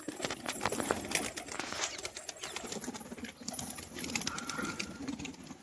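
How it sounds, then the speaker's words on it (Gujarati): Pigeons indoors cooing softly, with scattered chirps and faint wing flutters over a steady, busy background hum, no voices heard. "મિત્રો અંદર લાગે કબૂતર હજી અંદર છે"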